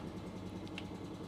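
A fully restored 1987 Yamaha RD350 HT motorcycle engine idling steadily, a continuous close mid-pitched drone with no change in revs and no talk.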